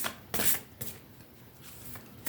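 Starseed Oracle cards being shuffled by hand, a few quiet riffling bursts close by with short pauses between them.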